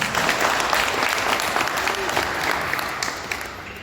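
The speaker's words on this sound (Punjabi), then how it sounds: "ਮੈਂ ਚਾਹੂੰਗਾ ਕਿ ਸਾਰੇ ਤਾੜੀਆਂ ਮਾਰ ਕੇ ਤੁਹਾਡਾ" Sustained applause from the audience at an annual special meeting of a community organisation in Nawanshahr, loud and steady throughout with a dense clapping texture, tapering only slightly toward the end.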